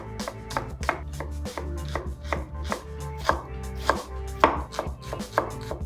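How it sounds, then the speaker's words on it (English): A knife chops a red onion on a board, with brisk, uneven strokes landing close and crisp, roughly two or three cuts per second, and no voices. "Cutting a red onion."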